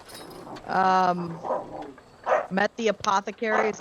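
A dog barks in a few short yips and bow-wows near the close, partly overlapping a person talking.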